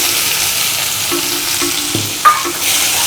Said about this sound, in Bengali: আমি এর মধ্যে এই কুচো করে কাটা পেঁয়াজগুলো দিয়ে দিচ্ছি।